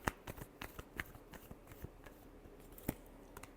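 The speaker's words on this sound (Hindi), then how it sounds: "Last shuffle." Tarot cards being shuffled for a final time before a reading, a soft close run of riffling snaps and flicks with a few sharper clicks, quiet overall.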